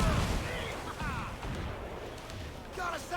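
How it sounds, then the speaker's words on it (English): Ship cannons fire during a naval battle in the video game Assassin's Creed IV Black Flag, a heavy booming barrage with rumbling aftermath under shouted crew voices and game chatter. "Cannon ready!"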